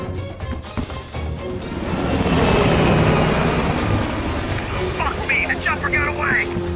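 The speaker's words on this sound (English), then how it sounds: "He's climbing into a chopper" A helicopter in Call of Duty Black Ops Cold War lifts off and flies away, its engine and rotor swelling to a loud roar before receding, amid shouting voices and gunfire.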